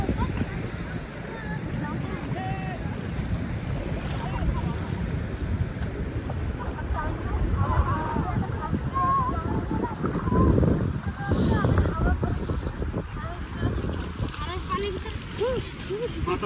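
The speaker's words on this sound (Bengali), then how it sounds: "বাতাস হওয়ার কারণে ঢেউয়ের স্পিডটা এখন বেশি" Sea waves roll onto a windy beach in Qatar, a continuous washing roar with rough wind buffeting the microphone and people talking nearby over it.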